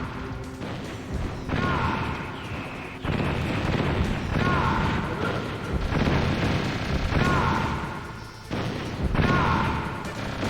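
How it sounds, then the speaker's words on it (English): Rockets fired at Liquid in the Metal Gear Solid boss fight, a series of loud booming impacts and crashes in repeated bursts, separated by short quieter gaps, over ongoing game noise. "we're going to just basically fire rockets at Liquid"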